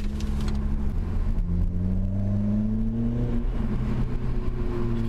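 Heard from inside a car with the window open, a cat-back exhaust gives a loud, deep, grunty drone; the engine note climbs steadily as it accelerates at low revs, dips briefly, then holds steady, with no speech.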